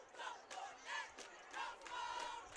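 Cheerleaders rouse the crowd at a high school football game between Lincoln and Erasmus, drawing rhythmic, repeated bursts of chanting and shouting that rise and fall, distant and faint.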